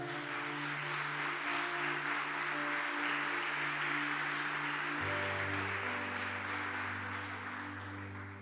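A church congregation applauding during a worship service, a steady wash of clapping held at even loudness throughout, with sustained organ or keyboard tones underneath that shift pitch midway.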